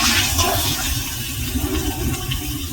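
Water poured from a rinsed bowl into a cooking pot for potato curry, a loud, continuous close splashing gush lasting a few seconds.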